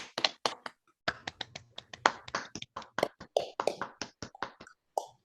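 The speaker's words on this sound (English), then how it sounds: "if everybody could unmute real quick and give a quick round of applause for Matt" Scattered applause over a video call, a handful of participants clapping unevenly through laptop microphones, sharp separate claps forming an irregular patter with brief gaps, close and dry, then trailing into a few last isolated claps.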